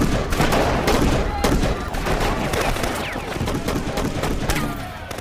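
A burst of rapid gunfire cracks repeatedly, shots overlapping in a chaotic volley amid a loud, noisy scene.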